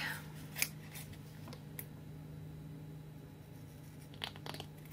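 Scissors trimming a paper craft tag, a few sharp close snips spaced out over quiet room tone, with a short cluster of cuts near the end.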